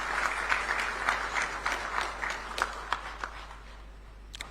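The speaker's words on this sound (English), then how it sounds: "Shall we give him a round of applause, please?" An audience at a presidential media encounter in Ghana applauds with scattered, fairly faint claps that gradually thin out and taper off.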